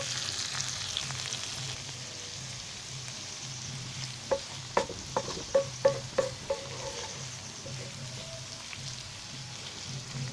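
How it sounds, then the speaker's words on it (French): Tomato with garlic stirred and fried into a tomato sauce for dilombolombo, a steady low sizzle with a short burst of rhythmic spoon knocks against the pot midway, no talking. "nous ajoutons la tomate dans laquelle nous avons mis les ail. Les ail a été mis dans la tomate et nous essayons de mélanger"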